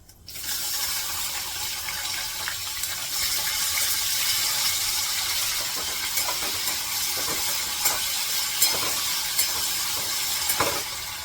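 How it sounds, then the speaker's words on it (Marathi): Potatoes lifted from water drop into hot oil in a pan over a low gas flame, setting off a sudden, steady hissing sizzle that holds at a constant level with faint crackles near the end, close and without talk. "तेल तापले, गॅस बारीक करून हे पाण्यातून बटाटे असे काढून त्यात घालायचे."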